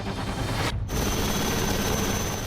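An Indian Coast Guard helicopter flying a flood rescue at the River Ambika in Valsad, Gujarat, gives a steady, loud rotor roar that fills the whole clip with a brief dip partway through.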